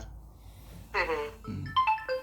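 A phone's incoming-call ringtone plays a few bright melodic notes, then cuts off abruptly after a brief burst.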